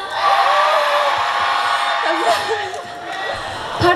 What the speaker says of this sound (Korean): 한번 함성 해주실 수 있으신가요?